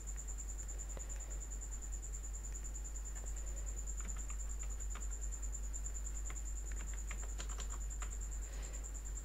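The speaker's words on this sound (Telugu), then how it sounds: "ప్రస్తుతం నేను ఇక్కడ మొబైల్ నెంబర్ అనేది ఎంటర్ చేస్తున్నాను." Computer keys click in short bursts as a mobile number is entered for an online recharge, soft and close, over a steady electrical hum and a faint high whine.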